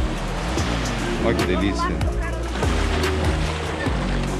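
Waves wash steadily onto Camiranga beach on Ilha Grande, Brazil, a soft continuous surf noise beneath a woman's close, excited talk.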